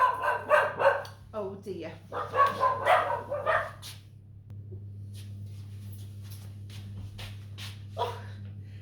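Two dogs bark in short, loud bursts in a home kitchen during muffin baking, over a steady low hum, and someone speaks briefly as the barking fades to quiet room tone.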